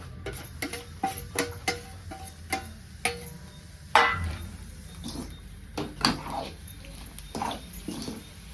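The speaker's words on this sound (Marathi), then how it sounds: "मी ह्यात आता गुळ मिक्स करते" A spoon stirs jaggery into roasted grated coconut and ghee in a pan for a modak filling, making faint, irregular clinks and scrapes against the metal.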